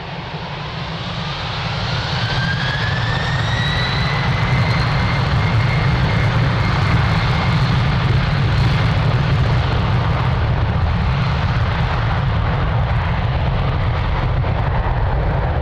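A Delta jet airliner taking off from runway 02 at Lisbon Airport, a loud sustained engine roar that swells in the first seconds and holds steady, with a rising whine sweeping upward through it and no voices.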